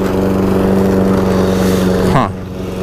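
Lawn mower engine running steadily and loudly while cutting grass, then the pitch and load shift abruptly as the blade stops catching grass near the end.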